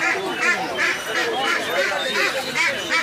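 Geese honk repeatedly at a busy poultry market at Sirajdikhan bazaar in Munshiganj, with close, nasal calls coming one after another among people talking nearby.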